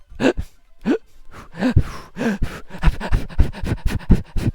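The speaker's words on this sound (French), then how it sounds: "Faut respirer vite." Rapid panting breaths, close and loud, repeated in a quick uneven rhythm during a fast-breathing relaxation exercise, with no talking over them.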